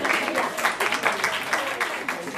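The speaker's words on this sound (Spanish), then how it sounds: "Un aplauso" Audience at a psychotherapy conference applauds, a dense, steady patter of many hands clapping at moderate volume, with some voices mixed in.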